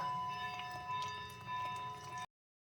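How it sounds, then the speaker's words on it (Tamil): A temple bell rings from a nearby temple during a puja, heard indoors over a kitchen where egg gravy simmers, giving rapid metallic ringing tones that sustain for about two seconds and then cut off. "பூஜை நடக்குது அதனால் அந்த மணி சத்தம் கேட்குது"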